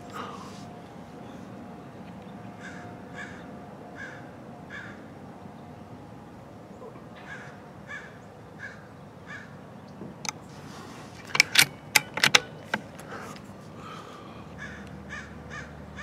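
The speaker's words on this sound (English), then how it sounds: "There is a crow way, way down there." A crow caws far off in open country, a series of short repeated calls in spaced bursts, with a few sharp clicks and knocks near the end.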